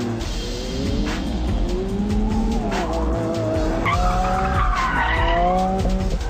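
A Lamborghini driven hard in Corsa mode howls loudly and continuously while its tires squeal and skid, the engine note rising and falling through the whole stretch.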